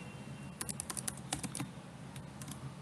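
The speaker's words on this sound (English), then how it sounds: "So we'll type not eligible." Typing on a computer keyboard while entering a formula in an Excel spreadsheet: a brisk burst of clicky, close keystrokes that tails off into a few scattered taps against a faint background hum.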